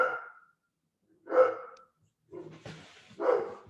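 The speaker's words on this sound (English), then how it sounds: "Are the dogs disturbing you? It's quite loud, huh?" Dogs at home bark loudly nearby in several separate bursts spread across a few seconds, with quiet gaps and some breathy sounds between them.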